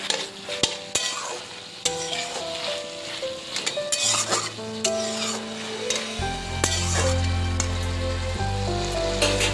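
Shrimp and pumpkin greens chorchori being stirred in a frying pan, with a spatula scraping and clinking against the metal over continuous sizzling, and some ringing tonal notes layered on top.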